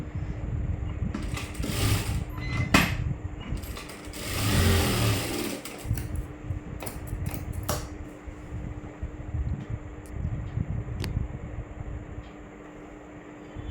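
A sewing machine runs a zigzag stitch along a blouse in repeated whirring bursts, with short pauses between runs and a faint steady hum underneath.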